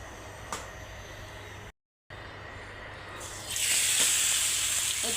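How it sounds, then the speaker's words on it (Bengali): Spice-marinated pomfret fish goes into hot oil. After a brief quiet gap, a loud, close, steady hiss of frying swells up and continues. "এখন আমি রূপচাঁদা মাছটা ফ্রাই করব"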